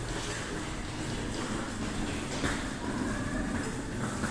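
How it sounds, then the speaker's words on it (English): A train pulls into a station below a footbridge, a steady dense rumble and roar filling the whole stretch while passengers hurry toward it, with no distinct voices standing out. "there's a train coming in, and as you can hear, a lot of people desperate to catch it"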